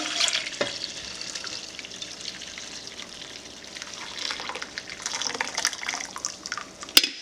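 Coffee goes into a pot heating on a stove, giving a steady liquid hiss and bubbling simmer with light stirring and a sharp clink near the end, no talking.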